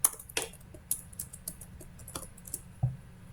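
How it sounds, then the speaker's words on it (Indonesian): Keys tapped on a computer keyboard while entering an IP address into a terminal, a series of crisp, uneven clicks at close range with short pauses between bursts, and no voice. "Ke terminal aku akan ngetik IP address"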